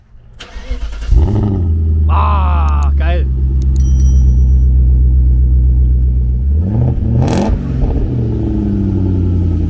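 Naturally aspirated V8 of a Mercedes C63 AMG cranks and fires up, then settles into a loud, steady rumbling idle with a couple of sharp revs, close by, while people speak briefly over it.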